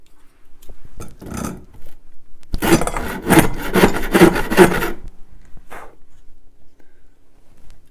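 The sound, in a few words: filing guitar wood with the coarse side of a file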